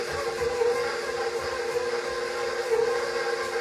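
An electric mixer creams butter and sugar with a steady, loud motor whine and a whirring hum that holds constant throughout.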